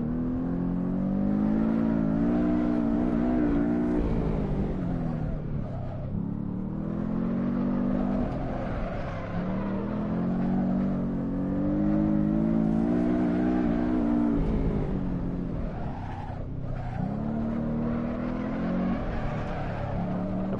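A mid-engine race car drifting in Assetto Corsa holds a steady, high engine rev throughout, its pitch swelling and dipping as the throttle shifts, with no talking.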